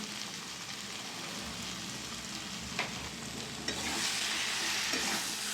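Eggs are stirred in a hot frying pan with spiced masala, a continuous loud sizzle with occasional scraping taps of the spoon, the frying growing brighter and louder toward the end.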